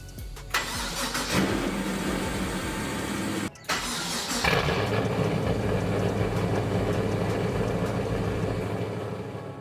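A straight-piped LS1 V8 swapped into a BMW E36 cranks, cuts out briefly, then catches and settles into a loud, raw, rumbling idle that carries on unbroken, with no talking.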